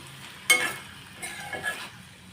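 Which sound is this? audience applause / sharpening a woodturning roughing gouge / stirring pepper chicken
stirring pepper chicken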